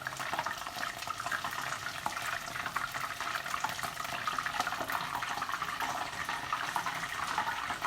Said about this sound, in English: I'm just going to rinse off my fingers.